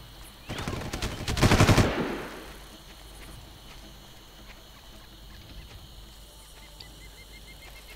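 A short burst of rapid automatic gunfire crackles loudly in the Far Cry game for about a second and a half, then fades into a quiet ambient background.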